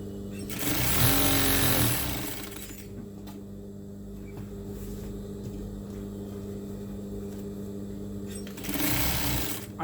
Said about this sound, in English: Then I continue sewing.